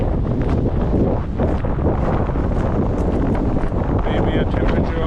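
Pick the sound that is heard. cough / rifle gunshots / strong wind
strong wind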